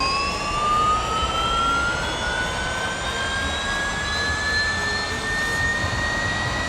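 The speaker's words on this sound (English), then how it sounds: "we've been moaning about the noise of the V6 hybrid" A high-pitched Formula 1 V6 hybrid racing engine whine, loud and continuous, its pitch climbing steadily as it accelerates.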